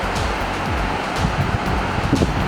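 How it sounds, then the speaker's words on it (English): Turbulent glacial river rushing beside a massive glacier on the trek to K2 base camp, a steady loud roar of churning water with wind buffeting the microphone. "That is one turbulent river."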